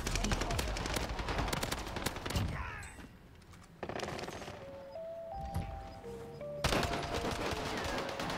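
Dense, loud automatic gunfire with an H4 Blixen rifle in Call of Duty: Warzone, rapid bursts packed close together, then a brief lull with game tones before heavy firing resumes.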